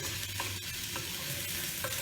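Spice paste and onions frying for egg lababdar, a steady close sizzle of oil broken by a few rhythmic scraping stirs of a spatula across the pan.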